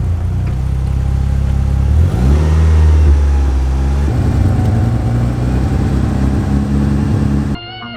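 A Mitsubishi Eclipse car engine revs loudly up and down, rising and falling in pitch with a strong, close rumble before cutting off abruptly near the end.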